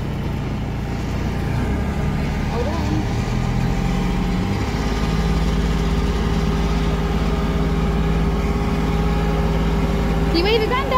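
A tractor mows grass for silage in a field, giving a steady, moderately loud engine drone with a low hum throughout, while voices talk faintly over it.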